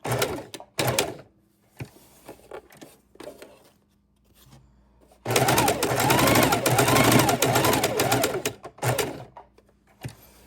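Sewing machine stitching fabric for a small wallet keychain purse, with stop-start bursts early on and then a long, loud continuous run of whirring stitches, with brief handling noises between.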